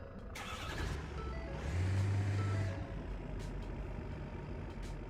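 Ford F-350 pickup in BeamNG Drive starting up and pulling out of a shop, a steady low engine drone that swells briefly before settling, with a few faint higher ticks and clicks over it.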